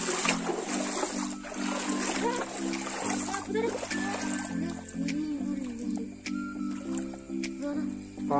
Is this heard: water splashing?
yes